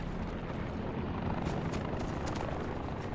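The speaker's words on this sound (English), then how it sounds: "It's a new helicopter." A helicopter in the video game Call of Duty Blackout gives a steady, dense rotor rumble that stays level and continuous for the whole stretch, with no voices.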